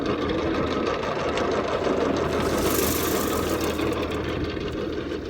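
Tractor power take-off running while spreading a 20-10-20 fertilizer mix with red clover over pasture, a loud steady mechanical drone and rattle that holds constant throughout, close by, with no voices.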